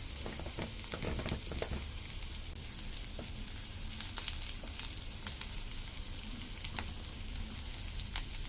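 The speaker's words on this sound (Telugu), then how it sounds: "వెజిటేబుల్స్ మనం ఎక్కువగా ఫ్రై చేయని అవసరం లేదు, లైట్గా ఫ్రై చేసుకుంటే సరిపోద్ది" Vegetables lightly frying in a pan for a home-cooked biryani-style dish, with a continuous bright sizzle and occasional crackles and stirring scrapes, close and steady throughout.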